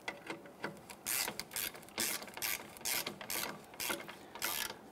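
A ratchet clicks in repeated quick bursts while tightening radiator mounting bolts on a 2005-2010 Chrysler 300, each run of sharp close ratcheting separated by brief pauses, with no talk.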